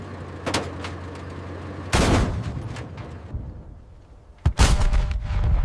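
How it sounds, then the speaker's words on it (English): Several loud, sharp booms from a Sherman Firefly tank's cannon ring out, each followed by a rolling rumble, with quieter thuds in between. "The Firefly's cannon roared like thunder, shattering the morning quiet."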